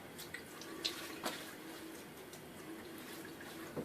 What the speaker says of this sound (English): Now water on my face before I start lathering.